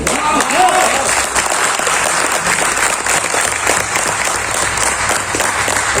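Applause from an audience seated in a hall, a dense steady wash of clapping filling the room for about six seconds with some voices mixed in.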